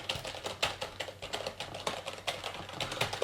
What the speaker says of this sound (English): I'm going to do like a quick typing test pretty close to the microphone.